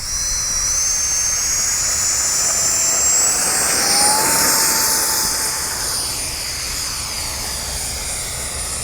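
A jet-powered FGFRC Aeroscout RC plane takes off, its turbine a loud steady high whine with a rising pitch sweep, building and passing closer midway before easing slightly as it climbs away.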